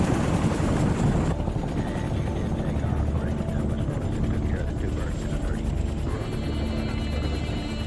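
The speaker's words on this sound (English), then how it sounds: "the first U.S. choppers lift off and begin the 13-minute flight to the landing zone" U.S. military helicopters in flight toward a landing zone in Vietnam in 1965, their rotors beating in a steady, loud, continuous chop with a droning engine whine. The sound holds steady throughout, with no pauses.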